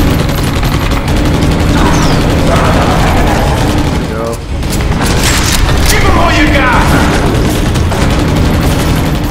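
Dense gunfire and booms from the video game Battle: Los Angeles, continuous loud rapid shooting and explosions filling the whole stretch, with a player talking over it.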